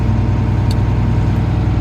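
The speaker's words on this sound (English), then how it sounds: "So we are sitting in this old tractor." An old farm tractor's engine running close by, a loud, steady low rumble with an even pulsing throb and no talk over it.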